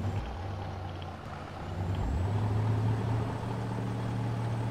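Truck engine idling and revving in Farming Simulator 19 with an Indian mod, a steady low rumble that swells partway through, with faint air-brake hiss near the start.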